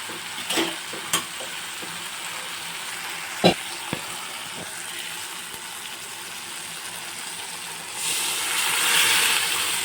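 A chickpea mixture is stirred in a frying pan, giving a soft, steady sizzling hiss with a few sharp scraping knocks. The sizzle swells louder toward the end.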